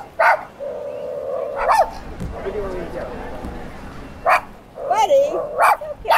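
A dog called Buddy barks several times close by on a street, sharp yips and woofs spread across the moment, with people talking in between.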